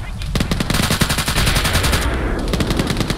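Sustained automatic gunfire and rocket volleys from an ArmA 3 military game battle, a dense, continuous loud barrage of rapid cracks with no pause, with faint radio-style talk underneath.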